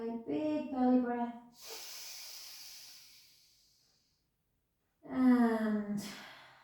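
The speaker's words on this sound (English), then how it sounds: "Back down, back to centre, the other way, big belly breath." Deep belly breath during a stretching session, heard as a long, slow airy exhale between stretches; close and clear, with a person talking before and after it.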